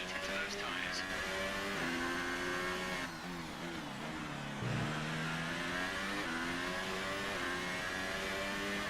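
A Formula One race car engine in the F1 2018 video game revs and climbs through gears steadily, loud and continuous for the whole stretch, with a brief dip in pitch midway before accelerating again.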